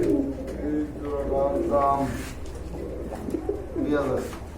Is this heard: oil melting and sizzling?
no